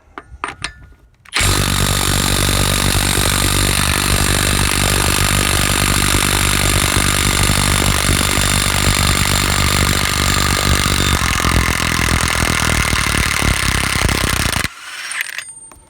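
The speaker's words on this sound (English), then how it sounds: "Let's see if the mid torque can do a wheel lock nut." A Milwaukee mid-torque impact wrench works at a wheel lock nut on a Mark IV Jetta 2.0, a loud, continuous rapid hammering that runs for about thirteen seconds after a short start and cuts off sharply.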